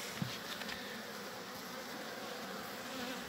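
Grey Buckfast honey bees swarm over a hive frame as it is set back in place, giving a steady, dense buzzing drone with a brief soft knock near the start and no talk.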